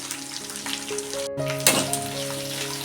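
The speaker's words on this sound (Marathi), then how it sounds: "मी असं परतून घेते तेलामध्ये बडीशेप" Fennel seeds crackle and sizzle in hot oil with turmeric and curry leaves for a tempering, a steady close frying hiss with scattered pops and one brief sharp spatter.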